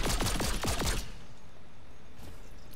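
A burst of rapid gunfire from a gun in the Fortnite video game, about eight close, loud shots in the first second, then quiet game ambience with a faint shot near the end.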